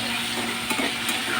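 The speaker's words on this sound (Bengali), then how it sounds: "তো আর একটু এটা একটু ভেজে নিতে হবে।" Ridge gourd and potatoes fry in a pan, giving a steady close sizzle with a soft stirring scrape through the short stretch, no voices.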